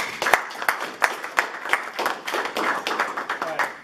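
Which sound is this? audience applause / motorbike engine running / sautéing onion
audience applause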